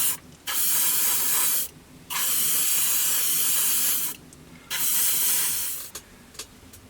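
Three long bursts of an airbrush or spray can misting varnish over an Airfix 1/72 Jet Provost plastic model, each hiss lasting one to two seconds with short pauses between, then a few brief puffs at the end; close and steady, no talking.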